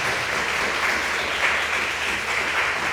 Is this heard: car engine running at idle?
no